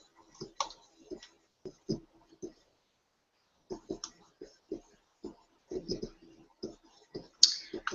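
Sharp, dry mouse clicks on a desk while selecting a Weld function in design software, several spaced clicks with a brief quiet gap in the middle and a brighter burst near the end.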